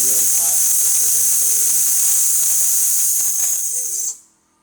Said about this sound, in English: Now we're going to just run the steam on for a little bit to show the steam boiler is going to be working